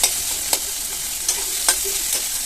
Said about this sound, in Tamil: வெங்காயம் வதங்கட்டும் கொஞ்சமாக உப்பு சேர்த்து வதக்குனீங்கன்னா வெங்காயம் தக்காளி சீக்கிரமாகவே வதங்கிடும்